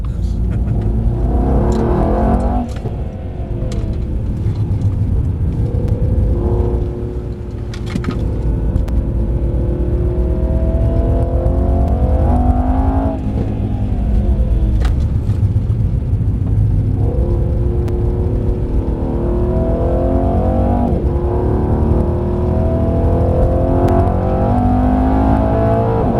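A Mercedes-AMG E63 on the Mercedes-Benz World race track, its engine rumbling loudly and revving through repeated rising sweeps as it accelerates and shifts gears, continuous and close, with no talk.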